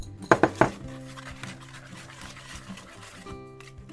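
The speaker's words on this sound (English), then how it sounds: "Just mix until it's just incorporated. The key is to not overmix it." Avocado brownie batter for flourless fudgy brownies is mixed in a bowl: a few sharp clinks of a utensil against the bowl at the start, then softer scraping and stirring, close and fairly quiet, no speech.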